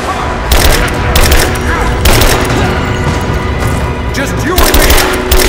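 Heavy sustained gunfire in a Rise of the Tomb Raider firefight, with dense automatic bursts and booming blasts running loud and continuous throughout, two brief lulls between the volleys.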